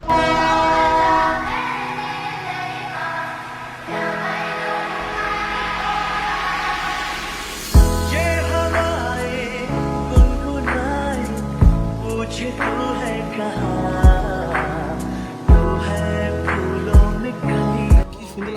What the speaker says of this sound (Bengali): ফাইনালি টয় ট্রেনের আওয়াজ পেয়েছি